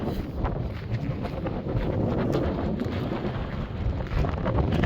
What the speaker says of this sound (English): it sure is windy as heck over here